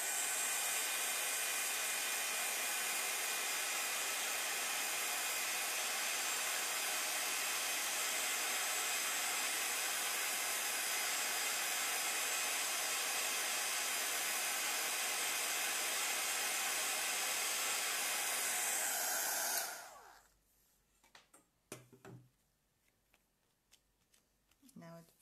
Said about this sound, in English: let me grab the heat tool